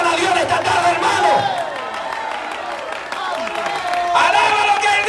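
Church congregation at a Spanish-language service shouts praises to God together, a loud, ragged crowd of cries and whoops swelling, dipping, then surging again, with a preacher's voice cutting through.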